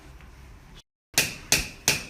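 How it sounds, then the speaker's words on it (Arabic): Hammer blows driving nails into an office wall to hang pictures, three sharp, loud strikes spaced evenly after a brief silence, with faint room noise before. "دام الشاكوش موجود والمسامير"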